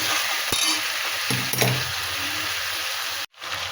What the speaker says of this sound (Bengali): এবারে এটা আস্তে আস্তে কষাই করব